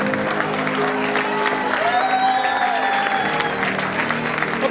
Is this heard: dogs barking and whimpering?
no